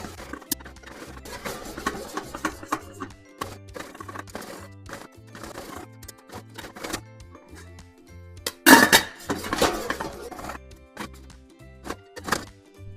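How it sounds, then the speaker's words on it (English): Pot of popcorn shaken on the stove, giving irregular rattling clinks and sharp pops at varying intervals, with one louder cluster of clatter midway, close and with no talk. "We'll shake the pot for about 60 seconds to make sure all the popcorn gets evenly cooked."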